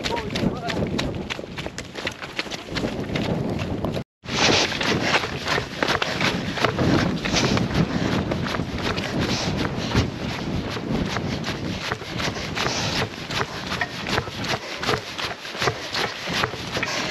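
Wind roars across the mountain pass of Gates Garth Pass during the Lakeland 50 ultramarathon, buffeting the microphone steadily and loudly at close range with only a brief dropout, while running footsteps patter underneath.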